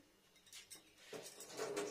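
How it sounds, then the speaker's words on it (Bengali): A kadai being washed after cooking, with light metallic clinks and scrapes of the pan, brief running-water splashes toward the end, close and fairly quiet. "একটু পরিষ্কার করে দিলাম, কড়াইটা ধুয়ে নিলাম।"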